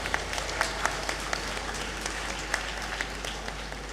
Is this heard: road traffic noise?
no